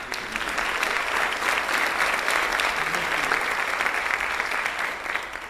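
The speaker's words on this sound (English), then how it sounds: "How about a round of applause for" Sustained applause from a live audience honouring a visionary community leader, steady and dense across the whole stretch, loud and close with no voices standing out.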